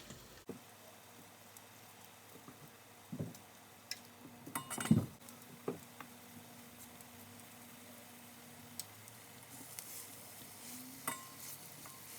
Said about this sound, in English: so now what we're going to do is fry up these veggie burgers.